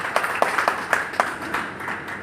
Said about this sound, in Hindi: एक बार जोरदार तालियां आदरणीय नरकरसाल जी